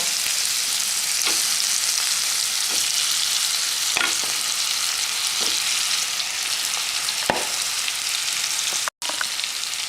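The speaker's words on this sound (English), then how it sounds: "Mix it and add brinjal." Brinjal frying and being stirred into masala in a pan, a loud steady sizzle with occasional scraping strokes of a spoon, close up and continuous apart from one brief cut.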